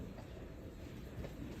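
Passing train with wheels clattering on rail, a continuous low rumbling wash heard alone with no voices.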